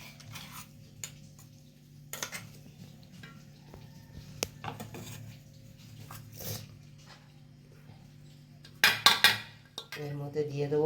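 Food being moved into a small metal bowl while making a soybean omelette curry, with sparse clinks and taps of utensils against metal, quiet and close, and a busier burst of scraping clatter near the end.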